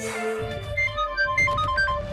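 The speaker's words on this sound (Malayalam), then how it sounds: "അപ്പോൾ അവന്റെ ഫോണിൽ സമറിന്റെ കോൾ വന്നു." A mobile phone plays a short melodic ringtone for an incoming call, bright tonal notes ringing out clearly for about two seconds.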